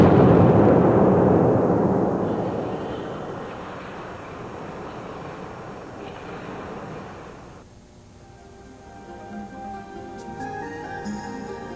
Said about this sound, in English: demonstrate what can happen if there is an explosion with a damaged flame path